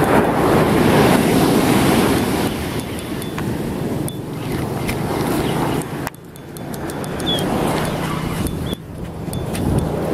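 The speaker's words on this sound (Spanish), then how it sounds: "Vamos a esperar la ola. Ahí la ola se viene." Ocean surf at Piedras Negras beach in Mazatlán, with waves rolling in and washing loudly and steadily against the shore, mixed with wind buffeting the microphone and no talk.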